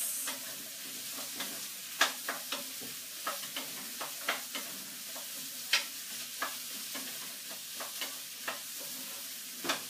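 Butternut squash and sweetcorn are stirred in a sizzling pan, a utensil scraping and tapping in irregular bursts over a steady frying hiss, close and alone.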